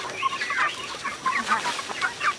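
A flock of backyard chickens clucking busily while being fed in the morning, overlapping bursts of close, lively calls without any talk.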